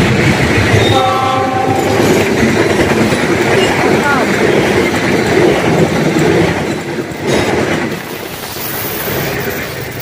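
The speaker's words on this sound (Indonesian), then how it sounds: "Ada kereta lewat, mantap nih." An Argo Parahyangan passenger train passes close and loud by an elevated rail line under construction at Kampung Sasak Besi, Gadobangkon, with a short horn call near the start and a steady wheel rumble that fades slightly toward the end.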